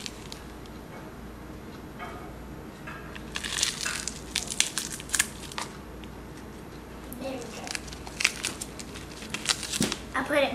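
Dry, papery outer skin being peeled off an onion, with bursts of close crinkling and crackling that come and go in short clusters, with quieter gaps between them.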